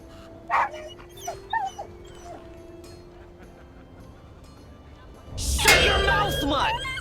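A dog in the video game The Inquisitor gives a few soft whimpers and yips early on, faint against a quiet background, followed by a louder burst of rough, agitated sound near the end.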